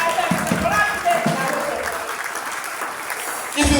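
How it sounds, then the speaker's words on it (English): Church congregation at an annual thanksgiving harvest service claps in a sustained, crowded burst, with voices mixed in and a fresh surge of clapping near the end. "can you clap for Jesus?"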